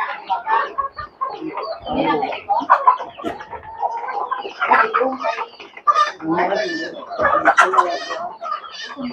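Several chickens cluck and squawk close by in a busy, overlapping jumble, with a person's voice mixed in among them.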